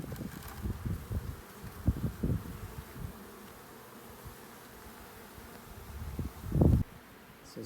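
Honey bees buzz around a beehive being removed in the desert, a soft steady hum with occasional louder passes close by and scattered rustling and knocks from the work.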